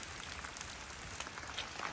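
Steady rain falling outdoors during days of continuous downpour, a faint, even hiss of drops on surfaces with no breaks and no voices.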